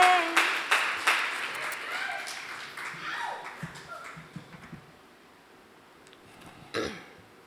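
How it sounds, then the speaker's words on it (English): An audience at a poetry slam in Oakland's Continental Club claps loudly at first, then the applause thins into scattered claps and fades, with a few voices and a throat clearing near the end. "give her applause"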